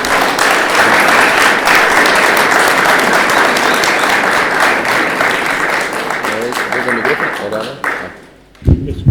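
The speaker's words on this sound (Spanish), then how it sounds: "De nuevo, un aplauso para" Dense, loud audience applause fills a talk hall, holding steady for most of the stretch before tapering off near the end, when a voice begins speaking.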